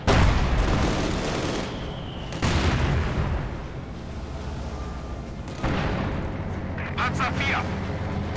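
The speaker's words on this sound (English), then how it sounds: "Just absolutely devastating crossfire there from 2 Katyushas firing from different angles." Katyusha rocket artillery fires in the Company of Heroes 2 battle game, with several heavy booming blasts and rumbling barrages that roll on between them, while a voice talks over the action.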